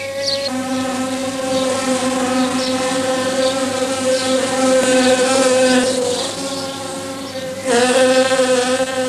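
Steady, loud insect buzzing with a drone of drone bees close by at ivy flowers, continuous with slight shifts in pitch as they move among the blossoms.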